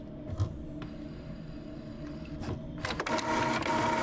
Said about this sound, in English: Printer. Always low on paper.